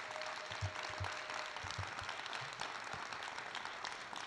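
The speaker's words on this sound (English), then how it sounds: "Let's give our speaker, Dr. Hill, another round of applause." An audience at a Clemson MLK celebration applauds a speaker, a steady wash of many hands clapping that continues evenly throughout, heard from a distance.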